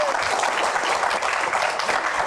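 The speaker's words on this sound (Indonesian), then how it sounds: "Oke, tepuk tangan." Studio audience applause on an Indonesian Q&A game show, a steady dense wash of clapping that stays loud and even throughout, with no talking over it.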